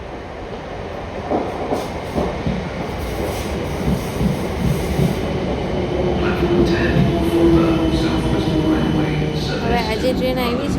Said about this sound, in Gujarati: આજે ટ્રેન આવી છે, એમાં આપણે બેસવાનું છે.